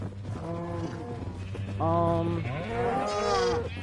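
Sheep in the video game Minecraft Bedrock Edition bleat twice in quick succession, nasal and quavering, close and clear over a low background hum.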